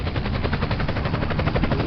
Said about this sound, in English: stop that freaking helicopter